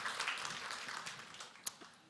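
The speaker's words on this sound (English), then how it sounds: "A round of applause for the panelists." Scattered, fairly quiet audience applause for panelists at a fintech conference, soft and diffuse, with one sharper clap near the end.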